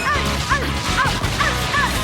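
A dog in a Naruto anime episode barks in a quick, loud series of about five sharp yips at an even rhythm, close up, over a busy soundtrack.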